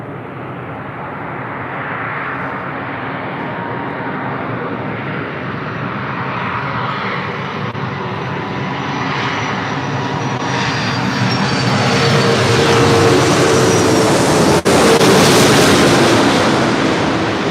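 An Airbus A330-200 jet airliner arriving at LAX gives a long, loud engine roar that builds gradually as it nears, with a rising whine and one sharp click near the end.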